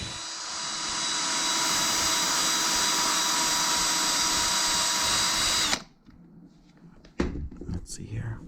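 A drill runs steadily to buff scratches out of a laptop surface, a loud continuous whine that cuts off abruptly, followed by quieter shuffling and handling noises.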